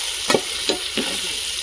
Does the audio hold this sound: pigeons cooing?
no